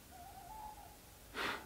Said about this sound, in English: Do you hear the owls?